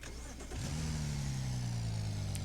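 A 2020 Land Rover Defender L663 engine cranks and catches after a brief quiet moment, then settles into a steady, close, low idle with a slight drone and no talking.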